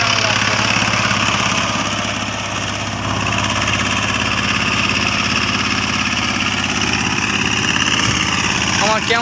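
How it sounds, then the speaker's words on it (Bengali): An ACI 28-blade power tiller churning a very dusty field, its engine droning loud and steady close by for the whole stretch, with a throbbing low rumble and mechanical rattle. "15 শতক জমি চাষ করতে 28 ব্লেডের টেলারের কত মিনিট সময় লাগতেছে"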